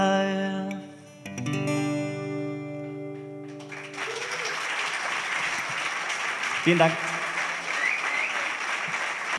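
Audience applause follows a music performance at a talk event in Pfullingen, moving from the tonal end of a song into steady, dense clapping that lasts several seconds, with a brief spoken thank-you on top.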